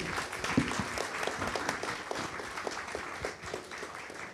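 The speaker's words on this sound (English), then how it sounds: "we should give another big round of applause to our amazing speakers" A conference audience at a talk on ecosocial energy transition gives the speakers a sustained round of applause, a soft, even wash of many hands clapping at a moderate distance.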